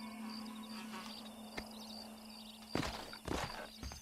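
Horse hooves clip-clopping in the Western video game Red Dead Redemption, a few faint, uneven hoof strikes over a steady low hum, with a louder cluster of steps near the end.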